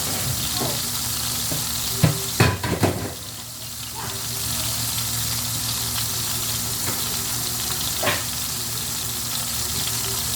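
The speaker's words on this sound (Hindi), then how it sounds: "हमारी मछली फ्राई हो रही है" Fish shallow-frying in a little oil in a pan, a steady broadband sizzle running throughout with a few louder clatters and scrapes near the start and one more later.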